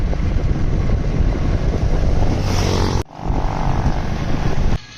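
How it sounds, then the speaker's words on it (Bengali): Two vehicles approach side by side on a rural road past tea gardens in Sylhet, Bangladesh, a loud, wind-buffeted engine roar that swells, cuts off abruptly midway, then resumes steadily close by. "পাশাপাশি দুইটা গাড়ি আসতেছে।"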